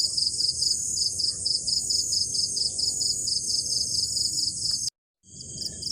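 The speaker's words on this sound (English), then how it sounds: "It's crickets, cicadas, frogs, birds, dogs, you name it." Dense insect chorus of crickets and cicadas at a night wildcamp in Thailand: a steady, loud pulsing trill over a low background rumble, cut off by a brief dropout near the end before resuming.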